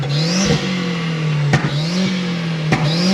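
A 365 bhp Edition 35 revs hard in town, climbing through its gears in quick rising pulls. Each pull is cut by a sharp crack at the shift, and the shifts come at a fast rhythm.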